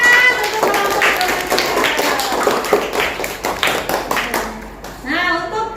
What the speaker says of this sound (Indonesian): Kasih tepuk tangan untuk kelompok remaja.